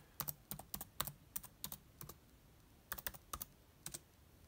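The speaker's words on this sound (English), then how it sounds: "So just type in your Wi-Fi password." Fingers tapping keys on a computer keyboard while entering a Wi-Fi password during a Windows install on a Mac, short bursts of crisp clicks in an uneven rhythm, close and fairly quiet, with no talking.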